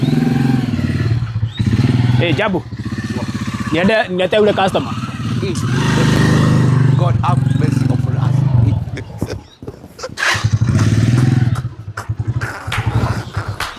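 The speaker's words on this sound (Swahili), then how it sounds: "Acha nikuitie pikipiki." A motorcycle engine runs close by, rumbling and revving through most of the stretch, with people talking over it throughout.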